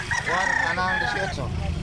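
A rooster crows once nearby, a loud drawn-out call with a rising then falling tone, against faint background noise.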